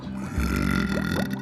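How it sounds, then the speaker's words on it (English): A cartoon frog in a children's story lets out a low, rumbling burp, a single drawn-out croaky belch standing alone and close, with no talk over it. "he swallowed so many bubbles that he burped"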